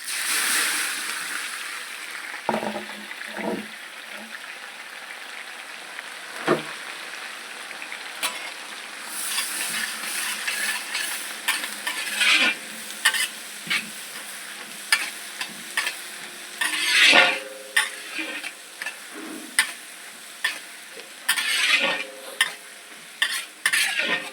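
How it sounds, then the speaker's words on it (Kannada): Chopped chilli and onion fry with cumin in a pan for vegetable masala poha. A soft sizzle runs under repeated scraping and clinking stir strokes from a spoon, close and irregular throughout. "ಈಗ ಕಟ್ ಮಾಡಿಟ್ಟ ಮೆಣಸಿನಕಾಯಿ ಮತ್ತು ಉಳ್ಳಾಗಡ್ಡಿ ಎರಡು ಹಾಕ್ತೀನಿ."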